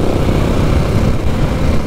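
A KTM 690 single-cylinder motorcycle engine runs steadily and close by on a first ride, with a constant loud low rumble and no pauses.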